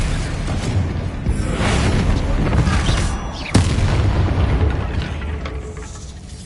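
Explosive spells such as Bombarda and Confringo burst in Hogwarts Legacy, producing loud booming blasts with rumbling tails and a sharp crack about halfway through, and combat sounds continue throughout.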